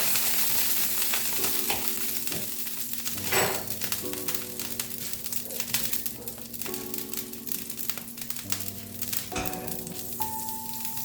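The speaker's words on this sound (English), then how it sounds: "We're letting the griddle heat up so that we can put our shrimp on there. A little olive oil. And I'm also going to use a little butter." Olive oil and butter sizzle steadily on a hot griddle being readied for shrimp, a continuous close frying hiss with occasional crackles and light utensil scrapes throughout.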